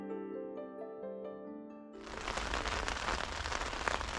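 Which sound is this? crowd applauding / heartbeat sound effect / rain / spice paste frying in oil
rain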